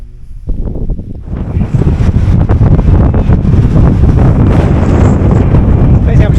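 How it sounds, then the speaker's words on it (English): Strong wind buffeting the microphone on the summit of Cadair Berwyn in Wales, a loud, roaring, gusty rumble building up and staying constant. "Depends how much windier it is up here."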